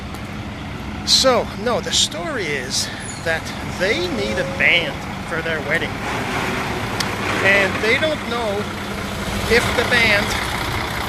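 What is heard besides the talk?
truck engine revving nearby while passing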